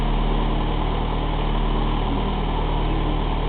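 A Toyota Celica GT4 engine idles steadily just after start-up, a loud, close, even rumble with a constant low throb and no change in pace throughout.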